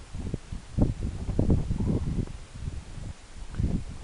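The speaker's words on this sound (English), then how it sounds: "Sorry about the wind." Wind buffets a microphone on a hiking trail high on Mt Adams in low visibility, a rough, uneven low rumble swelling and easing in gusts throughout, with no talk.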